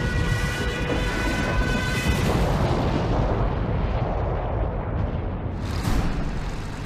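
Heavy, continuous rumbling of explosions and artillery fire from the May 1940 German offensive in the West, loud and dense with no pauses and no voices.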